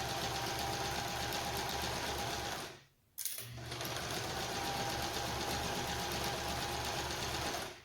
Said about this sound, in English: I'm just going to sew the binding on with a 1/4-inch seam allowance all the way around